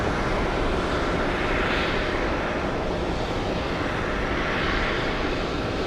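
A Delta airliner departs JFK on a long-haul flight to Accra, Ghana, its jet engines producing a loud, sustained roar with slow swells in intensity, no voices over it.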